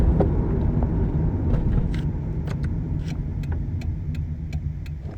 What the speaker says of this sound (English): I'll bring it up to 60 kilometers an hour and I'll brake down to 10 kilometers an hour.